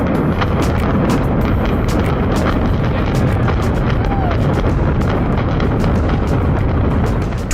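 The 1998 implosion demolition of the J.L. Hudson's department store building makes a sustained, loud roaring rumble, dense and continuous, with crackling bursts over a heavy low-frequency wash throughout.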